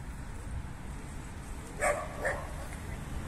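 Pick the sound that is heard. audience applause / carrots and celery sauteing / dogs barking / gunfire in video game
dogs barking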